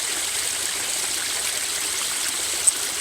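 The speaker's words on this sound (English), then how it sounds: "I can either squirt this into our water bladders or drink straight from it" Water squirts from a Sawyer Squeeze filter on a trail, a steady close hissing trickle throughout, with a tiny click near the end and no talking.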